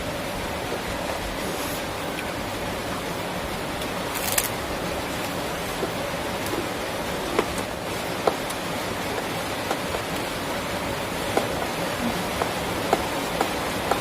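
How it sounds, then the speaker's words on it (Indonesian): Dense, steady roar of heavy rain pouring down, a constant hiss with occasional sharper drips and taps scattered throughout. "lagi hujan gede banget."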